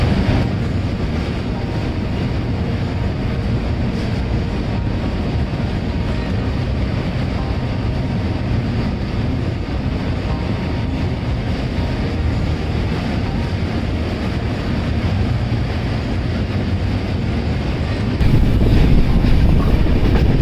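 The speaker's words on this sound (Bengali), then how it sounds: "এটা হচ্ছে ডবল ডেকার ব্রিজ, এর নিচ উপর দিয়ে গাড়ি যাচ্ছে এবং নিচে দিয়ে ট্রেন যাচ্ছে।" A passenger train rumbles across the double-decker bridge over the Ganga near Varanasi, a loud, continuous low roar mixed with wind buffeting, swelling slightly at the end.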